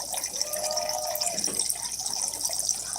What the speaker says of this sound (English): We're going to replenish her water dish.